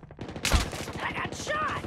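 A sudden burst of gunfire erupts during a Call of Duty Mobile match on the Alcatraz map, set among game voice and other in-game noise.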